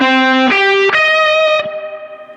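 A bright, synth-like guitar tone run through a Randy's Revenge effects pedal set to a high-frequency sine wave sound, steady harmonic pitches stepping upward twice, then ringing out with a wavering fade.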